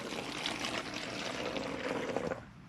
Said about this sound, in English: Now, take your vinegar and pour it into the bottle.